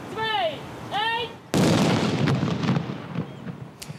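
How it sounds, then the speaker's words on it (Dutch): Controlled detonation of a bomb on a vacant lot, a single sudden loud blast that rolls and rumbles away over a few seconds, preceded by a whistling or siren-like rising tone repeated twice. "er wordt besloten om die op een braakliggend terreintje gecontroleerd tot ontploffing te laten komen"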